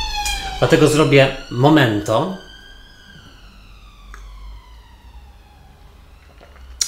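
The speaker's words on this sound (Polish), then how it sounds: "o, karetka pogotowia" An ambulance siren passes outside during a spoken segment, a steady wailing tone that lingers after the voice stops and slowly drifts lower in pitch as it moves away at moderate distance.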